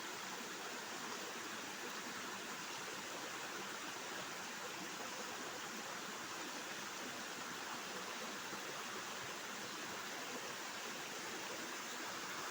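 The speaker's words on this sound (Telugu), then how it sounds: "చూడండి ఎంత బాగా పడుతుందో వాటర్ అయితే" A waterfall pours steadily into a small stream among large hills, a dense, continuous rushing roar with no pauses, close and fairly loud throughout.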